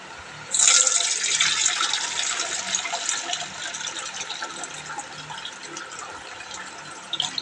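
Tap water starts abruptly and runs in a steady, close hiss while washing, then gradually softens over several seconds.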